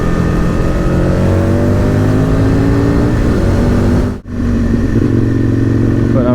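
An Aprilia RSV Mille R V-twin with an Akrapovic exhaust roars loud and close at a steady, sustained engine note, then dips briefly in level before returning to full volume.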